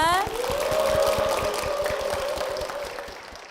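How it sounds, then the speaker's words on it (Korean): Audience applauding in a church as an elder is welcomed on stage, a steady wash of clapping with a sustained tone and talk running through it. "박수 부탁드립니다"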